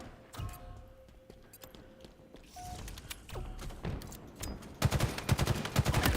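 Rapid gunfire bursts in the Halo video game ranked arena match, a series of sharp repeated shots building to a loud sustained volley near the end, with brief tones and clatter in between.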